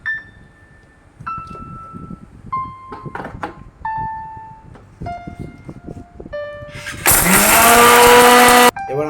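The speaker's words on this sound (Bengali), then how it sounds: "এবার আমরা চিনিকে একটু পাউডার বানিয়ে নেব" A kitchen mixer grinder powders sugar for mango kulfi, roaring loud and close for under two seconds near the end after a stretch of quieter tones and clatter.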